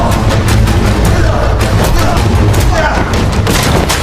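Pistol shots crack during a fight between two friends in an Indonesian film, a loud rapid burst of repeated bangs over a busy, dense soundtrack.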